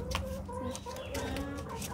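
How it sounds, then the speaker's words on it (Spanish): Backyard hens clucking close by in short, repeated murmuring calls, fairly quiet and steady, with no talk over them. "Ahorita les presento las gallinas."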